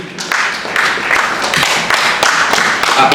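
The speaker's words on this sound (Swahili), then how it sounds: "Wow, pigeni makofi mengi." Audience clapping at a church conference gathering, a steady patter of many hands applauding, moderately loud and sustained throughout.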